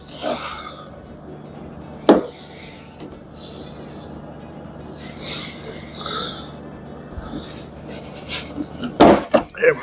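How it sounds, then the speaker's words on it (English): A small screwdriver pries plastic trim clips loose on a 2024 Jeep Rubicon, giving scattered scraping and rubbing noises with a couple of sharp pops and knocks, close by. "We got a little screwdriver. And things just pop right out."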